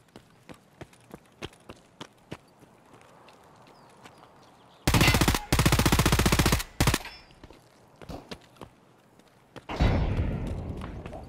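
P90 gunfire in the video game Escape From Tarkov: a long, loud burst of rapid automatic fire. Sharp footsteps and small clicks come before it, short bursts follow, then a rushing noise.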